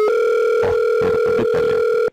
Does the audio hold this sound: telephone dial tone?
yes